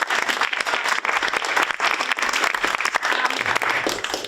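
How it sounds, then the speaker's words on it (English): After a school production, an audience gives a sustained round of loud, dense applause that fills the hall. The clapping swells and flutters unevenly throughout, with no talking over it. "Can we just get another round of applause?"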